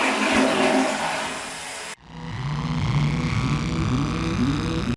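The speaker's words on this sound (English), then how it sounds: "It's got a good flush sound" A toilet flushes with a rushing burst of water that cuts off abruptly, followed by a gurgling refill with bubbling swirls that runs on steadily, close and fairly loud, with no talk.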